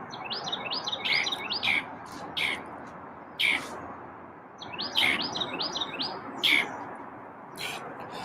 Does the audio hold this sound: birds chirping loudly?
yes